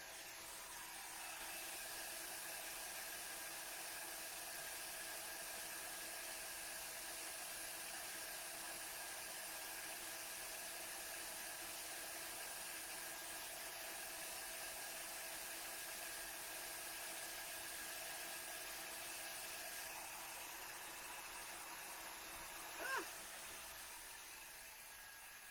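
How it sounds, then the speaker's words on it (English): A heat gun blows steadily while melting embossing powder, a constant airy hum with whining tones holding for the whole stretch at moderate level, with one brief click near the end. "Bring in my heat gun one more time."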